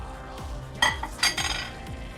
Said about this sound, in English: We're just gonna toss in the onions and peppers.